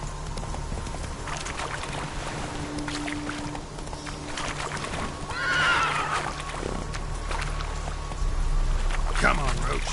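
Roach the horse from the Witcher 3 video game lets out a clear whinny mid-clip over a steady rumble of galloping hooves and clip-clop, staying loud and close throughout.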